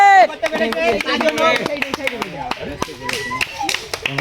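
A small group claps after a goal in a blindfolded penalty-shootout football game, with brisk uneven claps mixed among loud, excited voices talking and calling out nearby.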